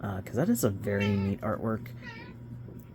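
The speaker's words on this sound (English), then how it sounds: "I'm certain you can hear my cat talking in the background." A pet cat meows several times in a tonal, chattering way close by, its calls overlapping and alternating with someone talking over it during a card unboxing.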